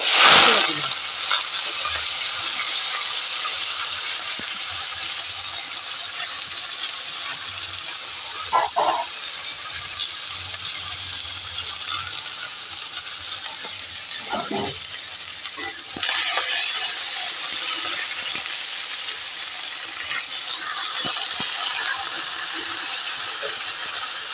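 Sliced onion and potato frying in a pan for a chickpea and potato curry: a steady, bright sizzle throughout, with a few soft scrapes and stirs.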